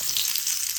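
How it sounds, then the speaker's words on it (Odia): Chopped onions sizzle steadily in hot oil in a kadai while mutton fat dalma is being cooked, a dense close hiss with no pauses and no talking. "ପିଆଜ ଦଉଛି।"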